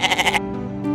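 Goats give a short, quavering bleat, loud and close, made of several rapid pulses that fade into a brief tonal tail, followed by a second sound just starting.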